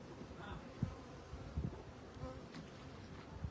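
Honey bees fan their wings during a swarm rescue, giving a faint, steady buzzing hum with soft low bumps, distant and quiet throughout, with no talking.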